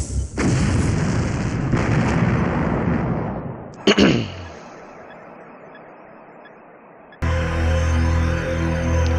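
Explosions from the Command & Conquer Remastered opening cinematic: a loud, sustained rumbling blast, then a sharp double boom near four seconds that decays into a quieter tail, before another heavy roar of battle noise returns near the end.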